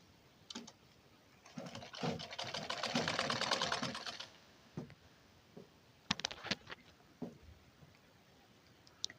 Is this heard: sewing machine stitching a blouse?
yes